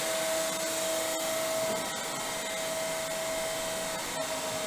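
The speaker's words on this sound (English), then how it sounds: "now again you have to check the motor speed by using the tachometer" DC shunt motor running on a test bench in an electrical lab at roughly 1500 RPM, a steady whirring hum with a fixed tone, continuous and close, with occasional faint clicks and no voices.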